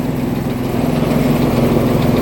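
A tractor-driven rice milling machine runs in a village, a loud, steady engine drone with a low pulsing throb that continues without a break.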